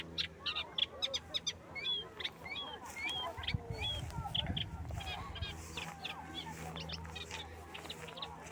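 Birds call repeatedly in short chirps and honk-like notes, fairly faint, over a quiet outdoor lakeside background in Normandy with a brief low rumble midway.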